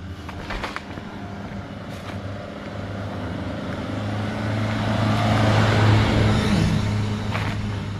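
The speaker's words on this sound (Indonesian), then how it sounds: "Itu mobil tuh." A car drives along a hillside road among empty luxury houses, its engine hum rising steadily as it approaches and swelling to a peak before easing off, heard at moderate distance without talk.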